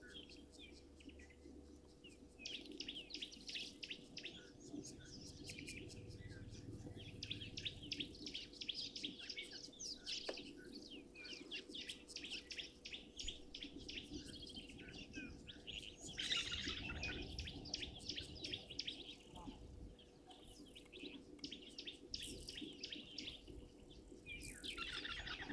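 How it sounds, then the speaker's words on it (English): Green-backed camaroptera calling outdoors, repeated sharp tweet notes in rapid series, fairly faint against a bed of insect buzzing and other birds, with no talk. "that bird you hear in the background, that tweet, tweet, tweet, tweet, that is actually called a greenback Cameroptera"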